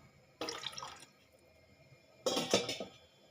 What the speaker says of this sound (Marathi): ताक घेतल्यामुळे गरज वाटल्यास पाणी टाकायचं आहे आपल्याला, तर मी थोडंसं पाणी टाकणार आहे त्याच्यात।